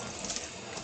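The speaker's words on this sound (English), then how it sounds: "I'm gonna wash it, rinse the top" Tap water runs over the top of a can as it is rinsed in a sink: a short, steady, fairly loud hiss of flowing water, heard alone.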